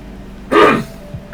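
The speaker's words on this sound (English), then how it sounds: "I'm so sorry about clearing my throat constantly" A single short throat clearing from a man during a Digimon card game session, a brief close rasping burst of about a third of a second in an otherwise quiet room.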